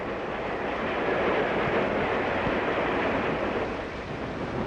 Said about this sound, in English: Along New River in Virginia, the Powhatan Arrow streaks by, one of our finest trains.